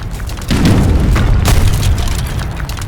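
Cannon fire booms in the Age of Empires strategy game, a heavy low blast starting about half a second in and rumbling on through the rest of the clip, loud and continuous with battle noise.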